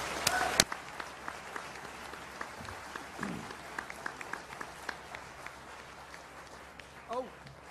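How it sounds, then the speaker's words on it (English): Sparse, distant audience clapping after a debate between Christopher Hitchens and Dinesh D'Souza, scattered individual claps at low level with a brief voice near the start and end. "Let's give these gentlemen an incredible round of applause."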